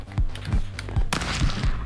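AK rifle fire in a video game: a run of sharp, loud gunshots in quick succession with a low thud under each, one burst louder than the rest.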